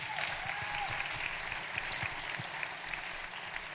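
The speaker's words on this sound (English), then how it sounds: "we celebrate him and give him a round of applause" Audience applause for a mayor at a community State of Africatown event, a continuous even wash of clapping from a crowd, moderately loud and sustained throughout.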